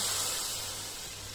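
A loud hiss of water poured into a hot pan of fried lamb, bursting at first and then slowly fading into a steady steam sizzle.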